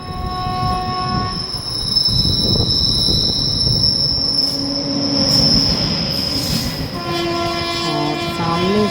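Karnataka Sampark Kranti Express passing close by on the opposite track beside a train halted on the Guntakal outer, with loud continuous wheel squeal, rumbling wagons and a horn sounding near the end.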